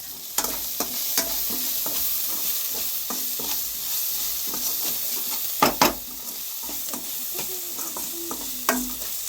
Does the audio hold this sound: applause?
no